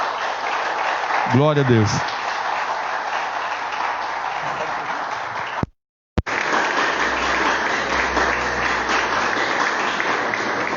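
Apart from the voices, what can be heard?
church congregation applauding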